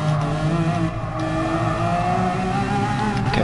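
A Lamborghini Aventador LP700-4 (2011) V12 engine in Gran Turismo Sport, droning loud and steady through a race as the revs climb and hold, with no pauses and no talk over it.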